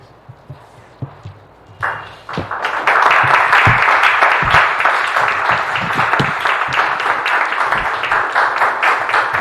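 Sustained applause from a lecture audience, starting with a few scattered claps and swelling after about two seconds into a dense, loud, steady ovation that fills the rest of the stretch.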